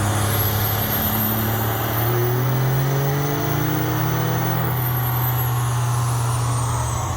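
A stock Dodge Cummins diesel truck revs hard on a dyno at a diesel sled-pulling and dyno competition. A steady deep engine drone runs under a high turbo whine that climbs and then eases off near the end, loud and continuous.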